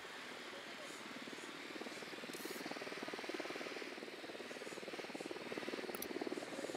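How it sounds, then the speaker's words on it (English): A surveillance drone in Ghost Recon Wildlands gives off a steady, faint rotor buzz with a rapid fluttering pulse that holds evenly and swells slightly toward the end, with occasional brief clicks. "Drone is airborne."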